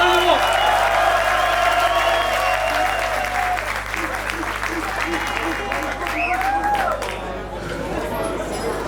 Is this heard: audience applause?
yes